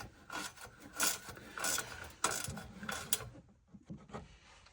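A ratchet wrench tightens 13mm bolts on the front suspension of a Land Rover Defender under restoration, giving several close bursts of rapid clicking separated by short pauses.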